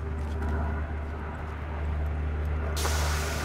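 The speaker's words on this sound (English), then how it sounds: "Now an even louder plane, really?" A loud airplane passes overhead as a steady, heavy engine drone with a low rumble, swelling slightly toward the end over a constant background hum.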